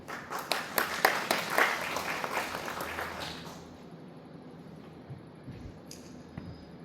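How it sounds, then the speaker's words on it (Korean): Applause welcoming the steering committee chair at the Bada Literary Award ceremony, a short run of sharp claps from the audience that fades out within a few seconds, leaving a quiet hall. "큰 박수로 맞아주십시오."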